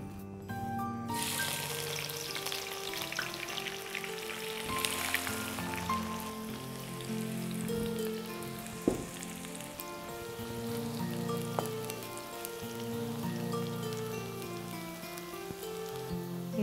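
Onions dropped into very hot oil and ghee, frying for biryani with raw jackfruit, giving a continuous close sizzle and crackle that carries on throughout, with a few clinks from utensils and no talking.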